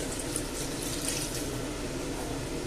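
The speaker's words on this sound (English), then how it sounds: "I did some hot water straight from the tap, I'm going to add" Hot water runs straight from a kitchen tap into a pot for a pork stew, a steady, even hiss of pouring liquid with no break, fairly quiet and alone.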